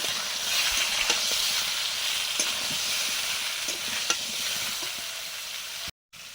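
Ridge gourd and pointed gourd added to frying potatoes crackle and hiss steadily in oil, with periodic spatula scrapes against the pan, the sound cutting off abruptly for a moment near the end.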